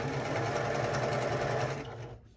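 A sewing machine stitches quilt strips up close with a rapid, even mechanical whirr, running steadily for about two seconds before it slows and stops.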